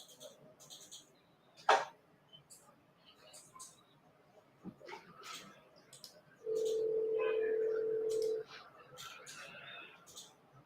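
A telephone call being placed: a few brief dialing tones, then a steady electronic ringback tone lasting about two seconds, close and clear against faint background noise.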